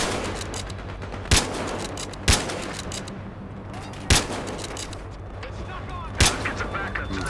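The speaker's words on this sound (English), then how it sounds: "Looks like they're definitely sniping us back." Gunfire in a close-quarters online shooter game: four sharp, loud single shots crack at irregular intervals over a constant background rumble.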